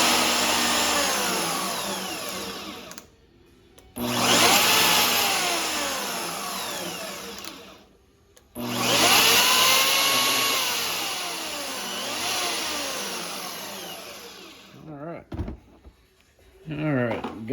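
A Harbor Freight Hercules portable bandsaw on a tabletop stand runs with a steady, loud whine in long stretches, stopping briefly twice between bursts, with a clatter near the end.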